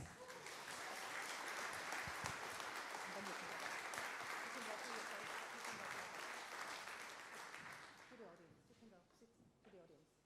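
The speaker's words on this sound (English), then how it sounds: "Big applause for our international candidates" Loud sustained applause from a crowd greeting international candidates at Austria's best sommelier contest, dense and even for most of the stretch, then fading into looser clapping as voices emerge near the end.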